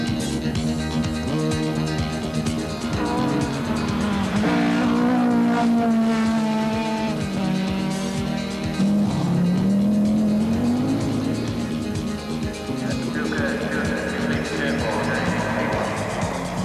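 A 1983 Isuzu Aska rally car runs an RAC Rally special stage through a game preserve. The engine drones loud and close throughout, and its pitch rises and falls as the car accelerates and shifts gears.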